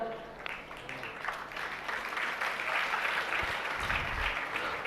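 Clapping from an audience at a Jain religious discourse, a steady wash of hands that builds slightly and holds for several seconds, with some faint voices mixed in.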